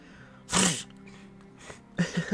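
A person gives a short, sharp imitation of a cat's sneeze, followed by a couple of smaller sneezy bursts and breaths.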